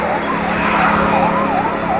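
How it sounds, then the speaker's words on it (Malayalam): An ambulance siren wails steadily through busy city traffic in Edappally, loud and close, over a constant roar of vehicles and no talking. "ആംബുലൻസ് വന്നിട്ട് അതിൻ്റെ മുമ്പിൽ പിടിക്കണം"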